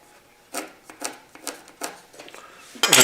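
A pencil marks measurements on wood for an extension table leaf, giving four or five short, crisp scratching strokes in a quiet room, ending with a louder rustle.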